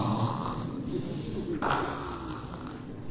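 A voice imitates snoring, giving a loud, close, raspy snort-like breath that swells and fades across a few seconds with no words spoken.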